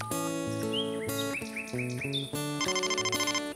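A telephone ringtone in the Trotro cartoon plays as a bright, steady electronic melody of chirpy repeated notes, loud and alone with no talk.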